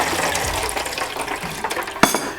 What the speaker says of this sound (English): Now I'm also going to be adding some hot water with some beef bouillon cubes in it.